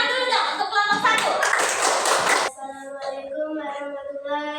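Elementary school classroom applause for a presenting student group, a couple of seconds of many small hands clapping at close range, then the clapping stops and a voice continues speaking.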